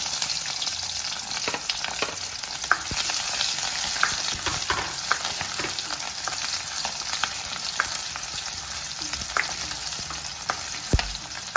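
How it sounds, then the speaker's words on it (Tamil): Fenugreek seeds fry in hot oil for a mango curry, a steady close sizzle with scattered pops and crackles continuing throughout, no voices. "இப்போது நல்லா பொரியல சவுண்டு கேட்குது வெந்தயமும் கொஞ்சம் பொன்னிறமாக வரட்டும்"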